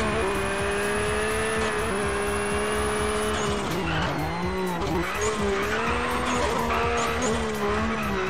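Tires skid and squeal loudly through a chicane in Colin McRae Dirt on PS3, a continuous wavering screech over a roaring rally car engine that rises and falls in pitch, with no talk.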